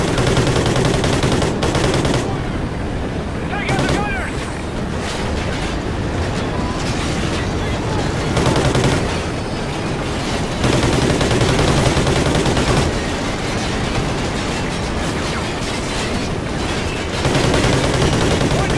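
Sustained machine gun fire from enemy gunners in the Call of Duty Ghosts video game, dense rapid bursts rolling on almost continuously with brief lulls, loud and close with a busy battle backdrop.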